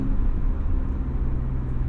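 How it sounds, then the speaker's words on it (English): BMW M3, recently repaired after a blown head gasket, driving with a steady low engine and road rumble heard from inside the cabin, continuous and moderately loud with no talking. "Definitely drives better than it did pre-head gasket, for sure."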